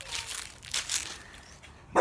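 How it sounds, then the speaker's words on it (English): A puppy barks outdoors in a few short, high yips spaced apart, moderately near, with faint background noise and a sharper burst at the end. "Puppy's barking at us."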